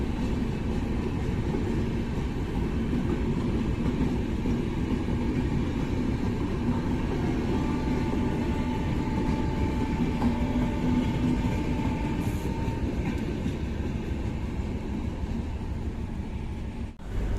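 Darbhanga-Saharsa passenger train running steadily on the rails in rain, a continuous close rumble with rhythmic wheel clatter and no voices.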